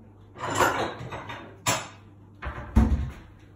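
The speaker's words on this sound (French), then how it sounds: "je vais remplacer le gobelet doseur par le panier cuisson pour éviter les projections" A Thermomix measuring cup is lifted out and a steaming basket set onto the lid, making a few separate plastic clacks and knocks with quiet handling between them.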